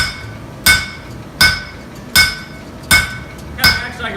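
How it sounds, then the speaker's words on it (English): Five evenly spaced blows from the back of a hammer flattening hot steel, each a sharp ringing clang that fades quickly, about three-quarters of a second apart. "Now flatten this, I'm going to use the back side of the hammer."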